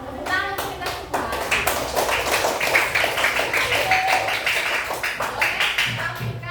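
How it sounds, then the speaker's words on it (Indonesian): A class of schoolchildren claps together for several seconds in a classroom, a dense, steady patter of hands with scattered individual claps standing out, loud and close. "Tepuk tangan untuk kita semua."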